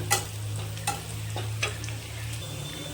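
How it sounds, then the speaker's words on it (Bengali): Onions sizzle in a pan as they turn lightly golden, a close, even frying hiss punctuated by a few sharp scrapes of stirring. "পেঁয়াজটা হালকা ভাজা ভাজা হয়ে এসছে"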